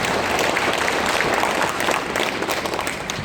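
Audience applause greets a guest lecturer taking the stage at a Lions Club district officers' seminar, a steady, dense clapping from a hall crowd that holds at even loudness for about three seconds.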